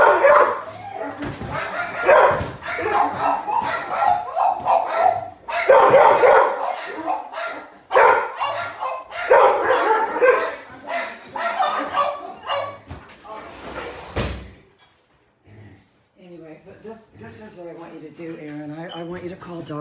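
Several dogs let out of a kennel barking and yipping, loud and close, at times overlapping someone talking, then a short quiet gap followed by a sustained whimpering whine.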